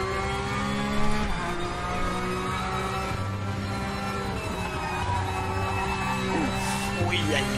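A Porsche 911 Carrera Cup race car in RaceRoom, its engine re-accelerating with a steady, loud tonal drone and gear-change steps, joined near the end by a brief squeal, alone without voices.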